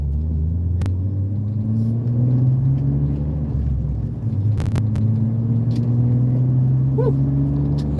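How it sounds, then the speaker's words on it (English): A car's exhaust rumbles low and steady from inside the cabin with the windows up in traffic, swelling slightly as the engine revs, with a few faint clicks over it. "Can y'all hear the exhaust at all with the windows up?"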